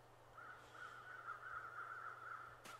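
Crows in The Long Dark survival video game caw in a steady repeated chatter at moderate distance over a low ambient hum, followed by a brief sharp click near the end, with no voices.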